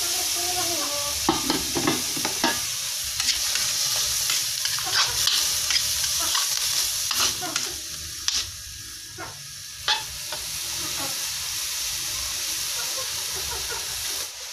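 Carrots being stir-fried for mie goreng, with a steady close sizzle and hiss under repeated scraping stir strokes and a few sharper clatters, with no talking.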